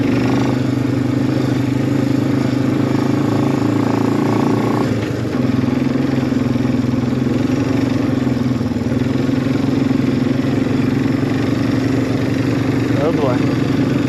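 A Suzuki quad ATV rides along a road, its engine holding a steady, continuous mid-pitched drone at close range with a brief dip partway through.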